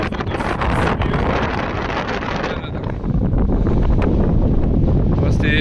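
Strong wind buffeting the microphone on a mountain summit in the Pyrenees, a loud continuous low roar with gusty swells that never lets up.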